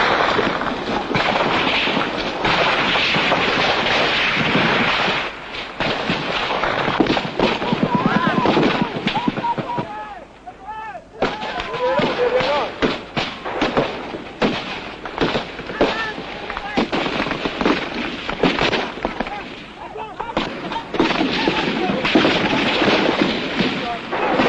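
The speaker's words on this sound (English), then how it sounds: "the rifle fire, light machine gun fire sounds extremely close overhead" Rifle and light machine gun fire in combat during the Biafran civil war, a dense, continuous barrage of sharp cracks and rattling bursts very close by, sustained throughout with a brief lull midway.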